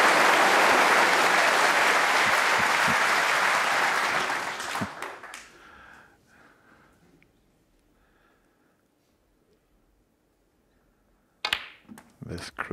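The crowd at the Crucible Theatre erupts in loud, sustained applause during a snooker maximum break, the clapping roaring for about four seconds before fading to near silence, then a brief burst of clapping returns.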